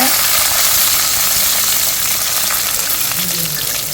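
Garlic and dried chillies hit hot oil with popped mustard seeds, making a loud, close, continuous sizzle with stirring rattles throughout.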